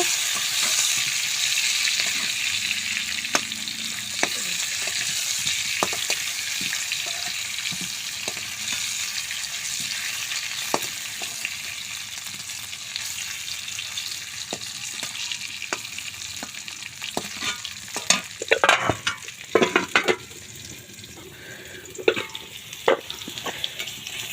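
Potatoes frying in a pan for a home-style chicken curry, a steady soft sizzle running throughout with occasional sharp crackles and scraping clatters growing busier toward the end, no voices.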